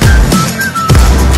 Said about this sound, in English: But I didn't know what to say, so I just whistled at her